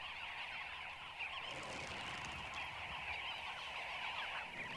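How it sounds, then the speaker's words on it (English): A flock of dozens of birds coming and going at an African waterhole, a faint, busy clamour of overlapping honking calls, steady throughout with no voices. "The noise and bustle of dozens of birds coming and going make it stop drinking twice"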